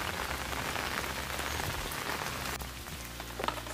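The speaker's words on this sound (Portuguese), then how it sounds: "E a chuva tá caindo" Steady rain pattering on surfaces outdoors near a corn and vegetable garden, a dense close hiss of drops running throughout with a few louder taps.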